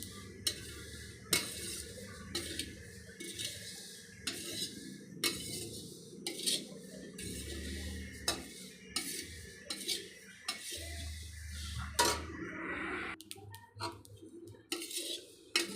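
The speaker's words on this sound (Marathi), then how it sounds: "अशा पद्धतीनं एकसारखं हलवून भाजायचं काम चालू केलेलं आहे" Cumin and fennel seeds dry-roasting in a pan, stirred steadily with a spoon, give repeated scraping and clinking strokes of metal on metal, close and fairly quiet, with a faint rustle of seeds between the strokes.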